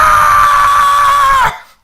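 A voice imitates comedian Sam Kinison's signature scream: one loud, sustained, strained high-pitched yell held steady for about a second and a half before cutting off sharply into silence.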